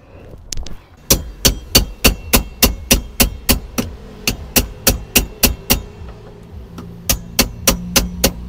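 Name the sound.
tapping fuel tank lock ring with a flat screwdriver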